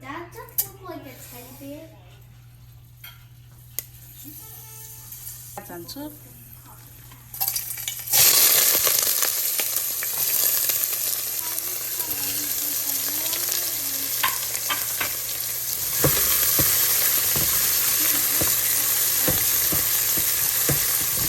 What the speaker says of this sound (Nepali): मलाई चाहिँ यो मेथी झानेको एकदम मनपर्छ, बास्ना आउँछ, त्यही भएर म चाहिँ मेथी झान्छु।